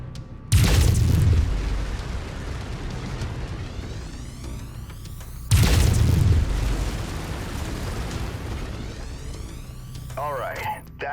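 Two heavy booming laser volleys from a mech in MechWarrior 5: Mercenaries, the first shortly after the start and the second about five seconds later, each leaving a long rumbling decay and a loud sustained din in between.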